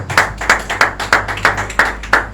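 Rhythmic applause from a church congregation after a Bible reading, with eight or nine evenly spaced, fairly loud claps or clap bursts in steady tempo and no talk over them.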